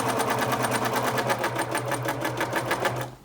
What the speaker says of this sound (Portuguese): Aí vai dobrando e vai costurando.